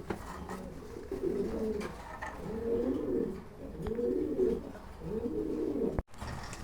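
Lahori pigeons at a farm coo in a series of four or so rolling, throaty calls, close and fairly loud, with a sharp knock near the end.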